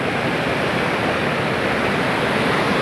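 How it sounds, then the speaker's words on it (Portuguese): A waterfall of cold water pours into a reservoir, producing a steady, loud, unbroken rushing hiss that stays even throughout with no voices. "Muito top demais a cachoeira, né? A caída d'água."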